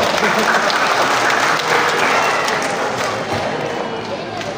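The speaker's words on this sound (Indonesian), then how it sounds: "Tepuk tangan dong." Audience applause at a school arts performance, a dense, steady wash of clapping and crowd noise that holds loud throughout and eases slightly toward the end, with no speech over it.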